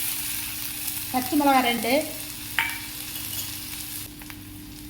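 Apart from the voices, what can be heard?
mustard, fennel, onion and curry leaves frying in oil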